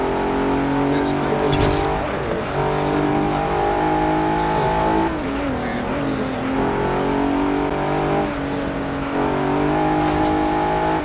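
A 2020 Hennessy Velociraptor engine roars loudly and steadily throughout, with rising revs and a few sharp bursts, while a voice talks over the din.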